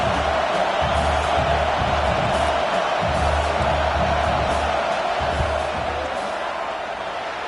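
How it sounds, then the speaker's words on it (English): Stadium crowd in the College Football 26 video game, Notre Dame versus Nebraska, roaring steadily through a fourth-down field goal attempt; a loud, unbroken wash of noise with a low rumble underneath and no clear talk. "This crowd trying to do its part to get inside the kicker's head."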